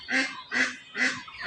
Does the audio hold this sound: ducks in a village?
yes